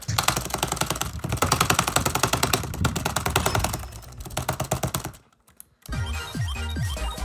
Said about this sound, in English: Keyboard abuse.